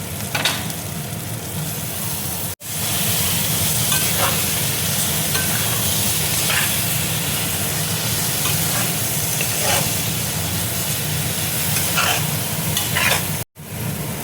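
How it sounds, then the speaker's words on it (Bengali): Khero, a gourd vegetable, stir-frying in cooked masala in a pan, a loud dense sizzle with steady scraping stirs throughout, close up, broken by two brief cuts. "এবার আমি খেরোটা দেখো দিয়ে দেবো।"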